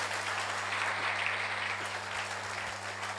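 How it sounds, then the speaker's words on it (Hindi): An audience at a Patanjali yoga gathering claps for one another in steady, dense applause that holds at an even level from start to finish, with a low electrical hum running underneath. "ताली बजाओ जी एक दूसरे के लिए।"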